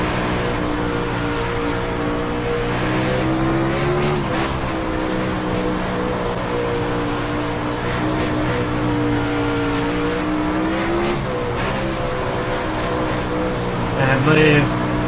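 A 360 sprint car runs on the Eldora dirt track, its engine droning loudly and steadily with rising and falling pitch as it works through the corners, while a voice talks over it.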